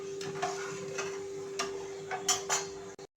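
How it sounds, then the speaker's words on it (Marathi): Spoon stirring sugar and lemon syrup mixture in a pan, soft irregular scrapes and light clinks against the metal over a steady faint hum, quiet and close. "आता आपण हे छानपैकी साखर विरघळेपर्यंत हे मिश्रण ढवळत राहायचं आहे"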